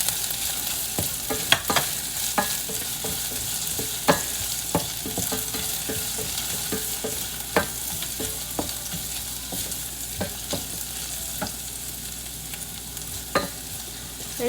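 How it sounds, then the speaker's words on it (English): Ginger and garlic sauté in a pot for chicken soup, a steady close sizzle broken by frequent scraping and clacking strokes of a utensil stirring against the metal, with no talk. "So we're just going to saute it, keep sauteing it for a couple of minutes"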